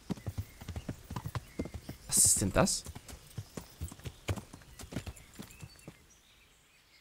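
Horse hooves clip-clop at a walking pace in the Kingdom Come Deliverance video game, a steady series of soft thuds with a brief whinny midway, while someone speaks over the game sound.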